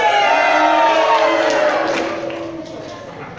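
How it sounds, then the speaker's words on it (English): Wedding guests, Kiwis and Aussies together, raise a loud crowd cheer on a countdown, a sustained roar of voices that holds strong and then gradually fades. "So let's have a practice cheer on the count of 3, 2, 1"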